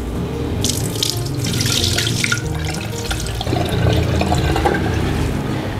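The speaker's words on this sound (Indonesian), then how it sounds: "Kita cuci ketannya sampai bersih, diulangi sekitar 3 kali" Glutinous rice is rinsed in water at a sink, with steady running tap water and swishing, splashing sounds heard up close throughout.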